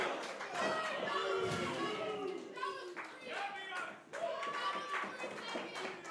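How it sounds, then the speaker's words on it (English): A wrestling crowd in Worcester claps at an intergender match, with scattered rhythmic clapping and chatter spread through the venue under an excited commentator's voice. "And this Worcester crowd appreciative of that counter from Mia Yim as she's still in the fight."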